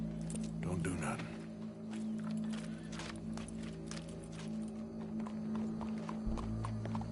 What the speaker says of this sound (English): Go brush that horse